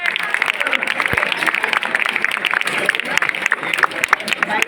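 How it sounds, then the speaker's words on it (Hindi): An audience at a school event claps for a teacher, a steady patter of many hands with dense, even crackle throughout, close and moderately loud. "एक बार जोरदार तालियों के साथ"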